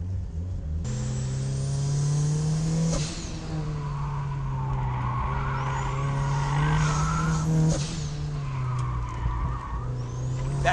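A turbocharged Miata race car driven hard on a track, its engine droning loud and steady while the tires squeal and skid through the corners, with the engine note rising and dipping between bends.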